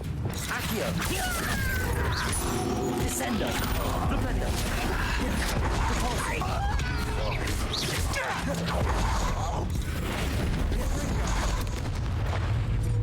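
A Bombarda explosion spell goes off in Hogwarts Legacy amid dense, loud game combat: crashing, booming blasts and creaking mechanisms run continuously, with a person's voice mixed in.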